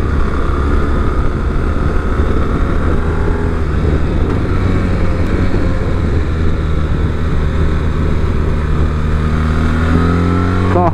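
A 2024 BMW R1300GS Trophy motorcycle runs steadily under way, its engine humming with a constant low drone and faint crackle over wind noise, close to the rider, without talk.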